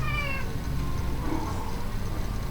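An impatient cat gives a short meow at the start, then a faint second cry, against a steady hum of indoor background noise.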